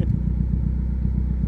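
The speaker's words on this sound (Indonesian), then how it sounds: "Suara mesin jadi super halus." A 24-year-old Toyota Soluna sedan engine idles smoothly after Blackcore tuning. It gives a steady, close, even low rumble with a regular pulse.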